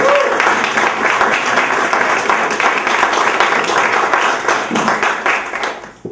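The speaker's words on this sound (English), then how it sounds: "How about another round of applause for Chris Vasquez?" An audience at a book launch applauds in a full, sustained burst of clapping that keeps a steady level and fades out at the very end.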